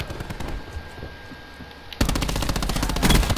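A new submachine gun in Black Ops 4 Blackout rattles in a sustained rapid-fire burst, close and loud, starting abruptly after a quieter stretch of background noise.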